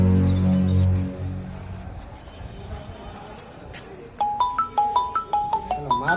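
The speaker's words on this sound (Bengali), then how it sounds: "মার ফোন।" A mobile phone ringtone plays a bright repeating melodic pattern, loud and near, starting after a stretch of background noise and a voice.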